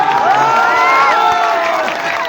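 A large crowd at a Jan Suraaj Party political rally in Bagaha, Bihar, cheering, clapping and whistling loudly and continuously, a dense roar of voices throughout.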